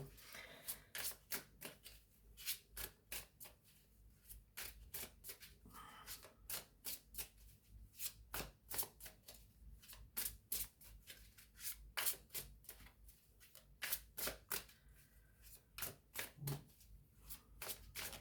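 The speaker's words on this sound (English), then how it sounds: "Let's pull some tarot." Tarot cards shuffled by hand in a steady stream of quick riffling, slapping bursts, close and fairly quiet, with no talk over it.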